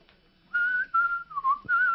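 A person whistles the Bridge Over the River Kwai tune, a few clear sustained notes in short phrases after a quiet start, close and bright with no speech.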